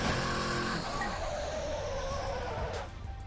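A Pagani supercar races in Midnight Club 3, its engine roaring loudly with tire squeal and skidding, the pitch sweeping as it accelerates and shifts before easing off near the end.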